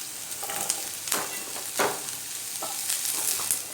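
Carrot added to frying onion and garlic for paneer fried rice: a constant close sizzle broken by several sharp stirring scrapes and clanks against the pan, no voices.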